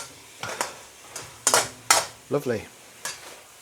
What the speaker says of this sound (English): You can sort of stir it in, get it to start to thicken